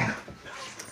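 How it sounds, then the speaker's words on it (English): A dog gives a brief, faint bark or yip, a single short burst that fades quickly. "Sorry about her barking. She likes to bark."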